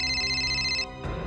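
A steady electronic phone ring tone sounds loudly, then cuts off abruptly and a low murmur of background noise follows.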